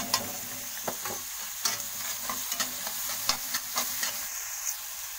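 Onions sautéing in oil on a medium flame with a little salt, a steady, fairly soft sizzle broken by light scraping and stirring taps, no talking.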